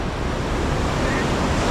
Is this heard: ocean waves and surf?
yes